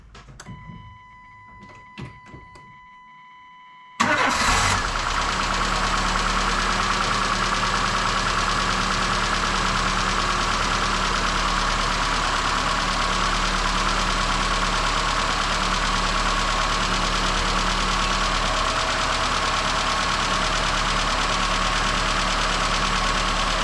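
A Peugeot 1.4 16v petrol engine, freshly fitted with new spark plugs and ignition coil, cranks and catches after a few seconds of quiet shuffling, then settles into a loud, steady idle that runs on evenly to the end.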